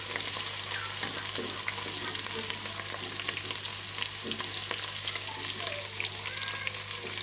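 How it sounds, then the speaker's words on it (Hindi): Ginger and garlic fry in hot ghee with a steady, dense sizzle and crackle that runs the whole time, close and fairly loud, with occasional stirring scrapes and no talk. "अदरक लहसुन को हम 2 मिनट तक फ्राई कर लेंगे।"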